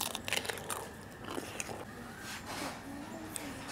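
Crunchy crispy Thai-style pork belly being bitten and chewed up close, several sharp crackling crunches in quick succession that settle into steady chewing, with talk mixed in over the mouth sounds.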